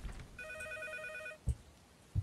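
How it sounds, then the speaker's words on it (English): A telephone rings in a video game, one sustained electronic bell tone lasting about a second, loud and clear, followed by two dull thuds, with no voices. "There's a phone call."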